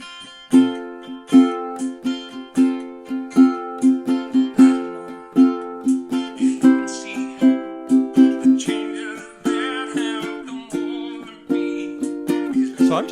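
A ukulele strums a song in a down, down, up pattern, with bright rhythmic chord strokes repeating steadily and clearly, alone and close.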